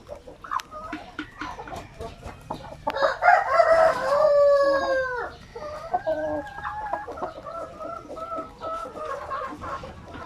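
Peruvian fighting rooster crowing loudly and close, one long drawn-out crow followed by bursts of clucking, with faint background noise and no talk.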